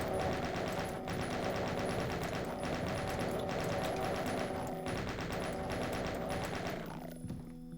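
Dense, sustained video game gunfire, a rapid machine-gun-like fusillade mixed with a music bed, loud and continuous before thinning out in the last second.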